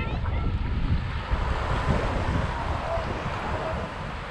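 Ocean surf rolls in at Goose Rocks Beach in Kennebunk, Maine, a steady wash of breaking waves mixed with wind buffeting the microphone.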